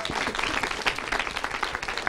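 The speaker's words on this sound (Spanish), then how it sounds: "Un aplauso también para Viri" Brief, scattered applause from a studio audience after a participant finishes speaking on a youth talk show in Aguascalientes, a light patter of hands lasting about two seconds.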